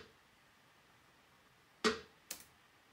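Two trap snare hits in a trap-rock beat, the first louder and broader, the second sharper and shorter, both standing alone over a quiet background.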